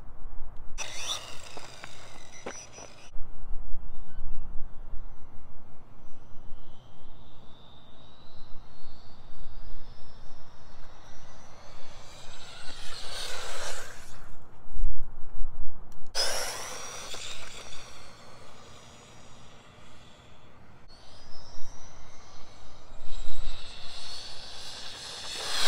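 A Dromida MT 4.18 RC truck racing fast on a track, its electric motor giving a loud, high whine that sweeps up and down in pitch as it accelerates and slows, with no talking.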